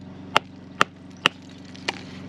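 Three sharp metallic hammer strikes on feathers and wedges splitting a stone ring out at an even pace, followed by a softer fourth tap, over a steady low engine hum.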